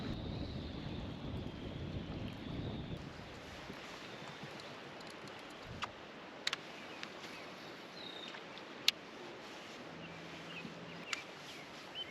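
Wind buffets the microphone with a low rumble for a few seconds on a lake, then fades to a quiet outdoor hush broken by occasional clicks.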